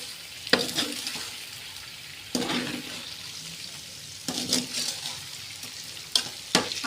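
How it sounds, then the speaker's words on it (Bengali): Raw mango pickle stirred in a large wok, with intermittent bursts of scraping and sizzling separated by quieter stretches, close up. "এই যে ধরে গুললে দাও ধরে ধরে গুললে দাও"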